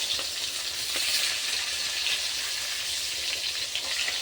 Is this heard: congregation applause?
no